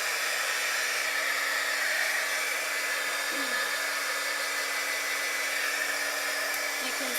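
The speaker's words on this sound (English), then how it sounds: "I'm just going to spritz over here, run my heat tool." Craft heat tool blowing hot air over stamped work colored with shimmer spray, a steady loud rushing whoosh with a faint motor hum holding constant throughout.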